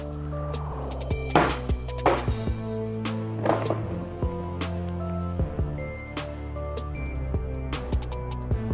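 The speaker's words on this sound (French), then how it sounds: "nous allons taper fortement la noix de coco sur une surface dure pour pouvoir la fendre en deux" A coconut struck hard against a hard surface to split it, giving several sharp, separate knocks spaced a second or so apart over soft background music.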